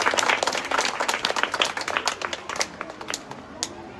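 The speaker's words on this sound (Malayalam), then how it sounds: "കൈയടിക്കാം" A crowd gathered for a convent library inauguration claps together, a burst of scattered applause that thins into a few sharp individual claps.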